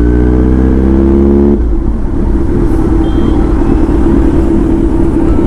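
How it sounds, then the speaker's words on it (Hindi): A Kawasaki Z900 superbike's engine roars loud and close, a strong revving tone that drops after a second and a half into a rough, continuous rumble. "भाई सुबह सुबह क्या फटाके फट रहे हैं भाई बाइक में।"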